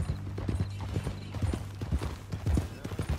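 Horse hooves clip-clop in Red Dead Redemption 2, a steady rhythmic walking gait of sharp, hollow knocks over a low background hum, fairly close and continuous throughout.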